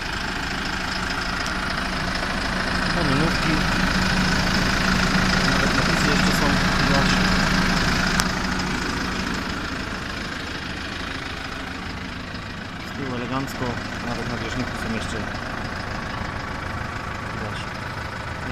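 A new tractor engine idles and runs steadily, a continuous mid-to-low drone with a slight rise and dip in level, while people talk nearby.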